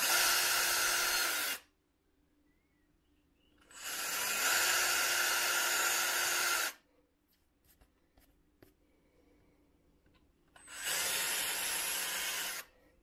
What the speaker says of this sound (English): So I'll drill out those rivets, and then we'll be able to take the ends off